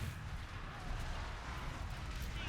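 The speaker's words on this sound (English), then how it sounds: "And with our cannons, let's open up one more hole here." Cannon fire in the battle game Total War: Warhammer 2, a faint, dense low rumble of distant artillery booms rolling under the battlefield ambience, with no voices.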